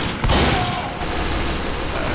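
A critical-hit gunshot from Team Fortress 2 cracks out loud and close, a single sharp burst followed by a rattling, noisy tail of game sound effects.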